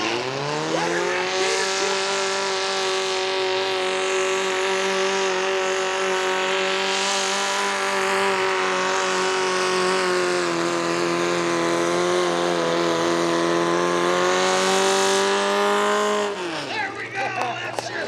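A small tractor pulling unit runs hard at a truck and tractor pull at a fair, its engine giving a loud, sustained high-pitched roar with steady harmonics for about sixteen seconds before cutting off abruptly.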